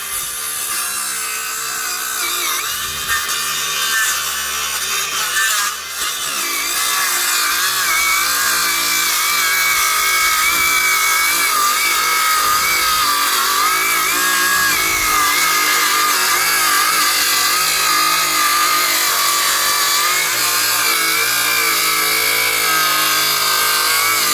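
Continuous harsh, gritty cutting noise from a saw working through 3.5 cm thick acacia wood, loud and steady throughout with a brief dip early on.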